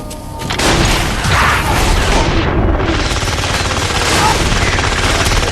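Demon guns fire in The Darkness, loud rapid gunfire bursts and booming shots running almost without pause, heavy and close.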